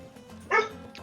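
A single short dog bark rings out loud and close over a quiet background, with a faint second yip following near the end.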